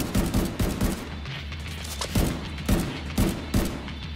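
Sniper fire in The Division video game lands as several loud, spaced shots and booming impacts over a low droning background, with no voices.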